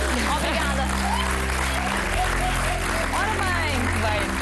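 A studio audience on the TVI afternoon show A Tarde é Sua applauds steadily beneath music and a presenter's voice, the clapping a constant wash rather than distinct claps.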